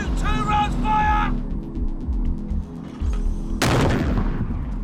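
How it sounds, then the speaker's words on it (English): Military 81mm mortars fire rounds at an airbase in Afghanistan with heavy booms and sharp concussive blasts. A tonal signal rises above rumbling engine noise, and a loud near blast breaks out toward the end. "if the regiment comes under attack, they can use the 81mm mortars"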